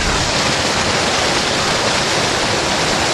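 Water gushes continuously through a blue bowl micro sluice in a hydraulic setup, a loud, steady, close rushing with no breaks and no voices.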